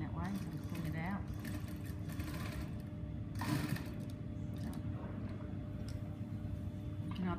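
A sewing machine stitches a skirt lining seam at a kick pleat, a steady mechanical whir running close and continuous throughout, with a person talking over it.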